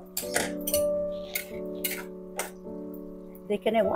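A cooking pot lid lifts off a pot of simmering banana stem and potato, giving a few brief metallic clinks and clatters over a steady tonal hum in the background.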